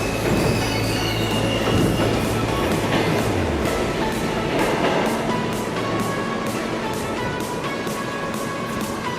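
Subway trains pulling out of Atlantic Avenue–Barclays Center station in Brooklyn, loud and close, with a rising motor whine, rhythmic wheel clatter over rail joints and steady squealing of wheels on track.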